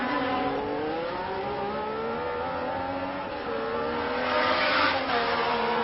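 Formula 1 race cars at the 1972 French Grand Prix, a continuous high engine whine with pitch shifting as cars run past, swelling louder near the end, no voices over it.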